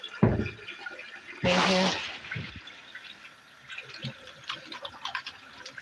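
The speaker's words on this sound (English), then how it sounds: "I'm just gonna wash my hands and soak this" Hands washed under a running kitchen tap, water splashing into a sink in a steady wash with a louder gush near the start, then lighter trickles and drips, with brief talk over it.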